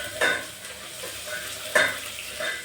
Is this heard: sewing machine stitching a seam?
no